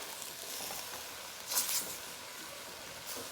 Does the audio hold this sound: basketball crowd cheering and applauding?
no